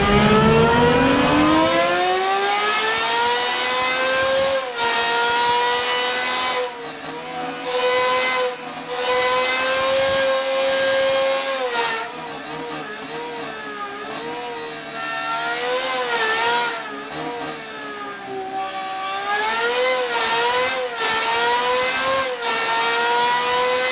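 The Aston Martin Valkyrie's naturally aspirated V12, running up to 10,500 RPM, screams through repeated high revs with sharp blips and brief lifts, loud and close with no talking.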